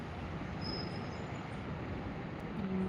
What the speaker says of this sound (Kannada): ಶಿಲ್ಪ ಇದು ಮೇಲೆ ಕಾಣ್ತಾ ಇರೋದು ಫ್ಲೈಓವರು ಇದ್ರ ಮೇಲೆ ಮೆಟ್ರೋ ಇದೆ